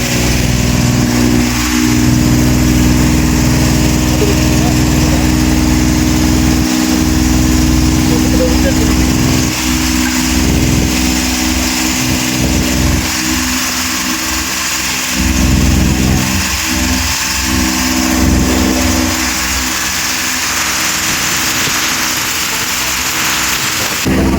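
A loud, steady boat engine drone runs throughout, mixed with a hissing wash like rain or spray, while people aboard the boat talk intermittently over it.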